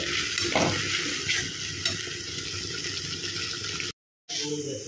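Spices sizzle loudly in hot oil for a pointed gourd curry, a close, continuous frying hiss with stirring scrapes that cuts out briefly near the end.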